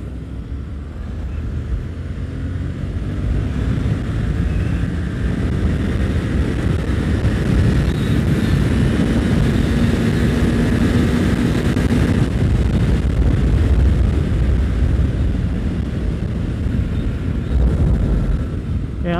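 A Yamaha MT-07 motorcycle engine pulls hard in fourth gear, a steady low drone rising gradually under heavy wind rush from riding at speed.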